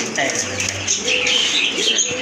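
Pigeons at a pigeon farm, large quality birds kept in pairs, give soft low cooing and faint fluttering beneath steady conversation between people.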